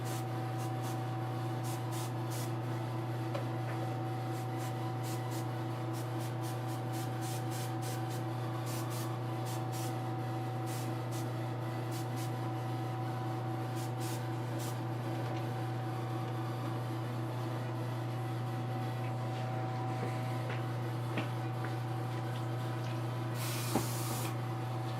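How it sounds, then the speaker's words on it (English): A bronze transparency coat is sprayed on: a steady, continuous hiss runs the whole time over a constant droning hum, with a brief louder burst near the end. "Try not to overspray it anywhere."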